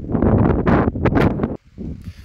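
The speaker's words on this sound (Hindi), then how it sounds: "तेज़ हवावां भी चल रही ने।" Strong evening winds before a night rainstorm in Punjab buffet the microphone in loud, rough gusts that rise and fall, then drop briefly before picking up again.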